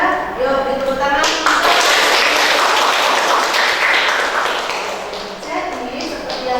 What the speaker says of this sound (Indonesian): Yuk, beri tepuk tangan.